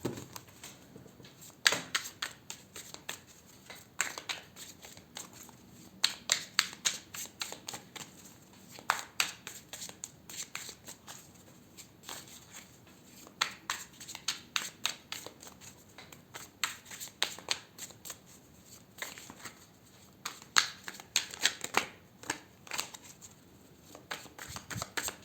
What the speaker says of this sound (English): Now let me throw out another spread for you using the same deck.